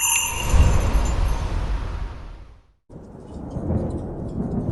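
Heavy thunder rumbles loud and close amid falling rain, fading briefly to near silence before the downpour resumes steadily.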